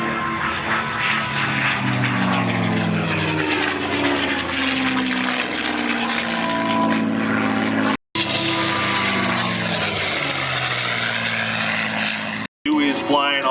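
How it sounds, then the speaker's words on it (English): A Packard-built Merlin piston engine drones loudly as the aircraft flies past at the Thunder over Michigan airshow, a deep throbbing roar that rises and falls in pitch with the pass while an announcer talks over it. "Sound of the Packard-built Merlin engine."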